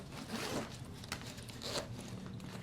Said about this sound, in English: I can unzip them.